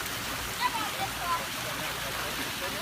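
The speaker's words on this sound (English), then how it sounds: "Flagstone waterfall." Water pours steadily over a flagstone waterfall into a free-form pool, a continuous broadband rush heard close and fairly loud with no talking.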